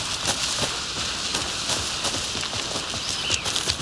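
Steady rain falling in the horror game Alan Wake 2, a dense, even patter with scattered sharper drops landing on surfaces, constant and fairly loud with no voices over it.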